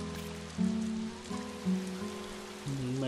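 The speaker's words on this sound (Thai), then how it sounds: "วันนี้ฝนตก" Steady rain falls in the Doraemon Story of Seasons video game, a dense continuous hiss layered over soft, mellow background game music.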